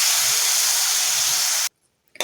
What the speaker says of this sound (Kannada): ಹುಣಸೆ ಹಣ್ಣಿನ ನೀರನ್ನ ಹಾಕೊಳ್ಳೋಣ.